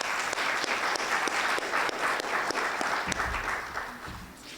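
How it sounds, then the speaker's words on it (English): A luncheon audience at a chamber of commerce event applauds the board members, steady dense clapping that carries on throughout and fades slightly at the end. "So if you guys could give a quick round of applause for your board members."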